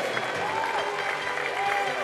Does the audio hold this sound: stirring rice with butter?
no